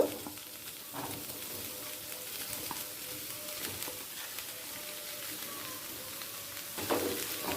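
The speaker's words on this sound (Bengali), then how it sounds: "আলুর সাথে সয়াবিনটাকেও একটু ভালো করে ভেজে নেব" Soaked soya chunks frying with potatoes in a pan, a continuous fine crackling sizzle heard close with occasional stirring scrapes and spatula knocks, fairly quiet throughout.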